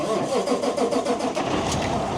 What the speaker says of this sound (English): Just get the truck fired up